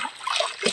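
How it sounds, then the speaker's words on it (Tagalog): Laundry being rinsed by hand in a river: brief splashes and trickling water as cloth is swished, close and moderately loud, with no talk. "mas madali nga pala magbanlaw dito sa ilog"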